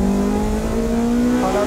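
Spoon Honda Civic EK9 and S2000 race cars on a circuit, one engine droning loudly at high revs with a steady, rising pitch throughout, close and continuous with no talk.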